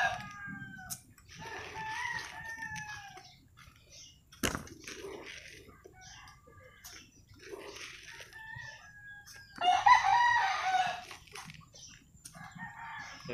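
Farmyard chickens clucking with a rooster crowing several times, loud and close, mixed with scattered scratching and pecking sounds at feeding time.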